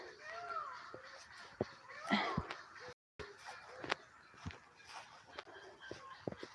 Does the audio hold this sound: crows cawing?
yes